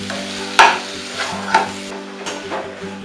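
Mutton stir-fried in masala in a cooking pot gives a continuous sizzle, punctuated by several irregular scraping strokes of a spoon turning the meat close by.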